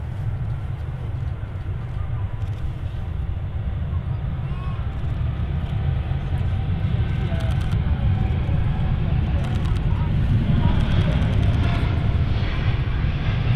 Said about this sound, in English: So the Etihad has already started its roll.